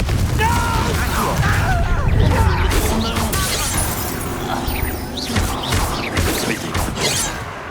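Confringo fire blast spell in the Hogwarts Legacy game bursting amid a busy combat mix, with crashing, shattering impacts and booms layered over dense clutter and speech-like game voices, loud and continuous throughout.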